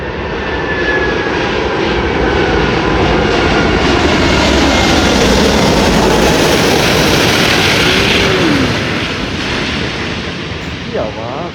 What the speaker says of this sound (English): here's the beast, the A380-800 of Singapore Airlines from Singapore.